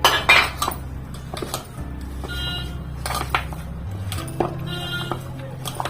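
Greens being stirred into a thick batter in a bowl for Konkani thagate soppina ambade, with soft scraping and clinks of a spoon against the bowl repeating through the stretch, close and fairly quiet.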